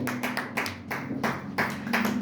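A church congregation at a Sunday service in Montreal applauds together, a steady, fairly even rhythm of clapping with regular swells that carries on throughout.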